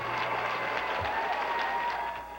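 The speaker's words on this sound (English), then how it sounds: "She was greeted with 3 minutes of rallying applause" A crowd gives sustained, rallying applause to greet Anita Hill at her first major public appearance since the Thomas hearings. The clapping is a dense, steady wash at an even level throughout, with no clear voices on top.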